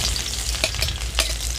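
Finely chopped onions fry in hot mustard oil, a steady close sizzle with occasional stirring scrapes and crackles, no voices.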